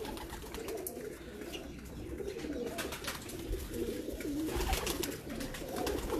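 Domestic breeder pigeons coo steadily at close range for several seconds, a low throaty warble repeating over a busy background of other birds.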